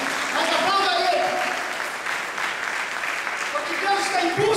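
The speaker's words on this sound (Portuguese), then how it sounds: "Aplauda Jesus. Não me aplauda, não, mas aplauda Ele," Worshippers in a church clap together in a dense, continuous burst of applause, with voices calling out over the clapping.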